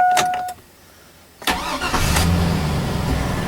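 A 2002 1500 truck with a starter problem cranks briefly, goes quiet for a moment, then catches and fires up into a loud, steady idle heard up close.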